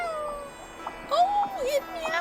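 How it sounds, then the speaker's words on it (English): A cartoonish cat in a video game gives a short rising-and-falling meow, while a person talks quietly around it. "Oh, it meows."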